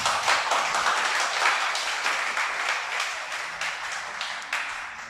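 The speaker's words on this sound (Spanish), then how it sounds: "Un aplauso," A congregation at a church service claps in a steady burst of applause that carries on for several seconds at moderate distance.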